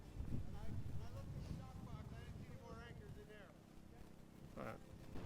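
Gusty wind buffets the microphone with low, rumbling roars outdoors near a boat run aground, while voices talk over it and a boat motor hums nearby.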